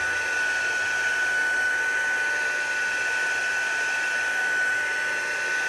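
A handheld heat tool blows a steady, loud, whooshing hot-air stream with a thin high whine while warming a library book security sticker on a poetry journal being taken apart, close to the microphone and without interruption.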